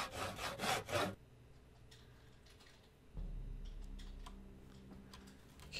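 A handsaw cuts through a log in Project Zomboid, its strokes coming as a rapid burst of loud rasping, then a quieter, scattered scraping with light clicks.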